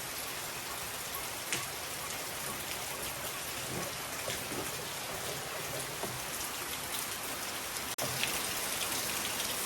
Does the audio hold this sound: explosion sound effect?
no